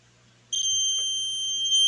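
A homemade continuity tester's small buzzer sounds after brief quiet, giving a loud, steady high-pitched electronic tone that holds unbroken to the end, close to the microphone.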